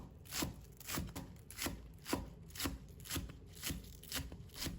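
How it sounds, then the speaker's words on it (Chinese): A knife chops spring onion greens on a cutting board in a steady, even rhythm of about nine crisp, close strikes. "把葱叶切成葱花"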